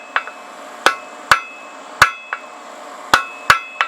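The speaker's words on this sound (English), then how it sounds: "using side hammer strokes to give it a quick point" A blacksmith's hammer delivers sharp side strokes to hot steel on an anvil, drawing a square point; about eight crisp, ringing metallic strikes in an uneven rhythm, close and loud, with no talking.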